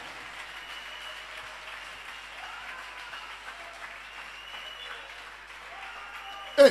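A church congregation claps and applauds steadily throughout, a broad continuous crowd sound, with a louder burst near the end.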